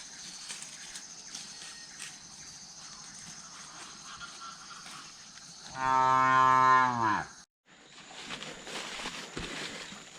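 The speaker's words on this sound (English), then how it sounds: "We just got our first cows on Saturday afternoon" On a silvopasture farm, a cow lets out one loud, drawn-out moo close by, rising over steady outdoor ambience before cutting off abruptly.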